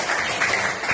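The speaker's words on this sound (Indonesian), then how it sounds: "Tepuk tangan untuk." Classroom of students clapping in a brief, dense burst that stays loud and busy for its whole second, with no voices standing out.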